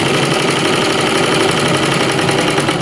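An electric sewing machine stitches along a pant pocket at a half-inch margin, giving a steady, loud, continuous mechanical whir and rapid needle chatter throughout, with no voices.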